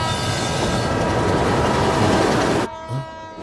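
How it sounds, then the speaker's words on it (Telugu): A train rushes past close by, a loud, dense roar of wheels and carriages that holds steady then cuts off abruptly near the end, leaving a quieter background. "ఫ్రేమ్ లో ట్రైన్ వెళ్ళిపోతుంటే"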